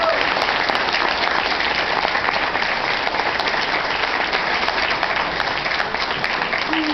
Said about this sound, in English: So definitely give yourselves a round of applause,